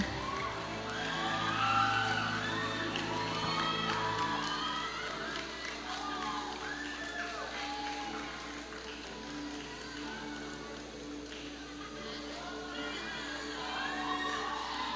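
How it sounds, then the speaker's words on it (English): A crowd at a volleyball awarding ceremony cheers and applauds the Universidad de Santa Isabel team, a continuous moderate-level din of clapping, shouts and whoops with voices mixed throughout. "let's give USI a big round of applause."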